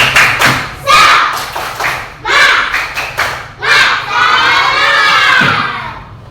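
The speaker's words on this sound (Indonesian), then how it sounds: "Tepuk semangat." A classroom of children performs a clapping cheer, with bursts of rhythmic hand claps and thuds alternating with loud shouted chants in unison, several phrases in a row.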